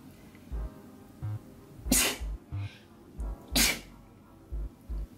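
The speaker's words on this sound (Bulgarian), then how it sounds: "Ще кихна." Two loud sneezes, about two seconds apart, stand out over a quiet room with soft thumping in the background; no one talks.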